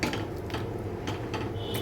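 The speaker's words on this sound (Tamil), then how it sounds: "இப்போ வந்து ஒரு தடவை கிளறி விட்டுருவோம்" Metallic scraping and clinking of a spoon stirring millet khichdi inside a tri-ply pressure cooker, steady and close, with no voices.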